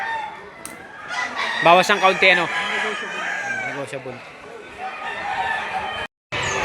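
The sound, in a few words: rooster crowing at Lipa City market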